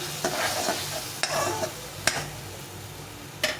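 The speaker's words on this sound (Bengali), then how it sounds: "পরিমাণ মতো হলুদ গুঁড়ো দিয়ে এটাকে ভালো করে নেড়ে চেড়ে নিতে হবে।" A spatula stirs a sour jute leaf dish with turmeric and salt in a sizzling pan, with repeated scraping knocks against the metal over a continuous frying hiss, close and fairly loud.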